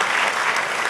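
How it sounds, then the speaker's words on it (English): An audience at a school literary competition award ceremony claps in a dense, steady burst of applause, close and continuous throughout. "Another round of applause, please, for yourself."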